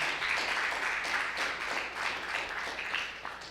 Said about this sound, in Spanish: Dame un fuerte aplauso